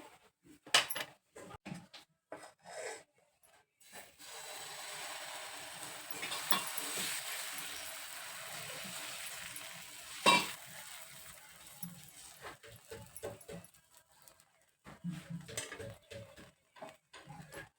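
Oil sizzling on a hot tava for a wheat flour dosa, a soft steady frying hiss under occasional clinks and taps of a utensil, fairly quiet overall.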